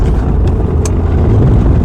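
Steady low car engine and road rumble from inside a moving car on an ordinary drive home, continuous and fairly loud with no talking.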